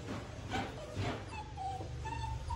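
A Malinois puppy whimpers and yips softly at close range, several thin high whines and short squeaks over faint background noise.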